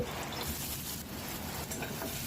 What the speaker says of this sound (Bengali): পেঁয়াজ কুচিগুলো দিয়ে দিব